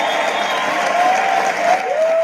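Audience applause at a spiritual medium's stage event, a dense wash of clapping with a faint crowd murmur, steady and loud for about two seconds.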